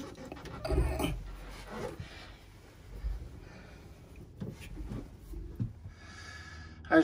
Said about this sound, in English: As you can tell by the panting